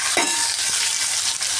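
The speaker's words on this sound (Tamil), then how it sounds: "நான் எல்லாத்தையும் சேர்த்துடுறேன். இது கொஞ்சம் நேரம் வதங்கட்டும்." Chopped shallots and garlic sauté in hot oil in a pan, giving a steady loud sizzle with a few stirring scrapes near the start.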